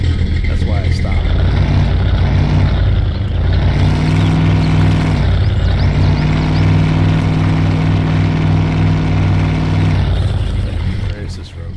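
Truck engine from the Spintires MudRunner off-road driving game, a loud steady motor drone running continuously throughout, with a player talking over it.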